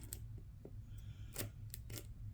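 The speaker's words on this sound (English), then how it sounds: "My handy dandy scissors here." Scissors snip through the plastic wrap on a card deck in a few short, crisp cuts close by, set against a low steady hum with no talking.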